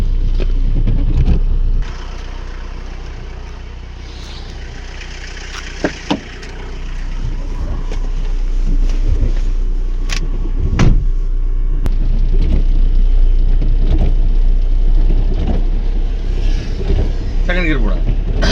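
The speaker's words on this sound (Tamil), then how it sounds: "மல் இப்போ நம்மள்ட்ட பயிற்சி எடுத்துக்காப்புல இப்போ தனியாக ஓட்ட போகிறார்." Car driven alone by a driving school learner, a steady engine and road drone from inside the cabin with occasional knocks, with people talking throughout.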